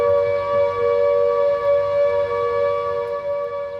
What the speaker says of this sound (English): the siren would go up high and then stay on high for a steady pitch